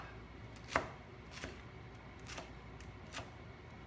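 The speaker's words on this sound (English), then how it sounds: "I'm going to finish cutting up my slaw" A knife chops cabbage for coleslaw on a cutting board, giving four separate sharp knocks about a second apart, the first loudest, over a quiet room.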